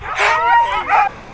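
Sled dogs at a dog sledding race in Australia give two quick, high yipping barks close by, a short excited outburst lasting just over a second.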